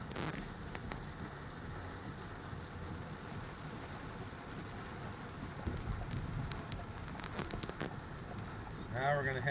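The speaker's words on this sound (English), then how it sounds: "And this rain just won't quit." Rain pattering steadily on surfaces after severe storms in Wilmington, Delaware, a constant hiss with occasional louder drips and splashes, moderately close.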